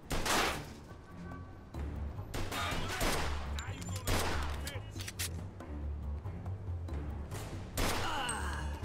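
Gunfire rings out in Mafia 2 Definitive Edition in repeated bursts of loud shots spread across the clip, with a voice talking over the firing.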